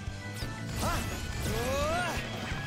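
A Mercy Smash attack in the video game Bravely Default II lands as a crashing impact with whooshing and chiming effects, short and loud over game music.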